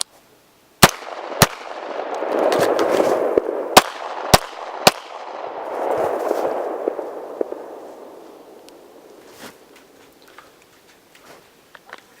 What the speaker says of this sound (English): Have a magazine loaded with 2 rounds here, and what that will do is allow me to shoot twice and then have an empty gun.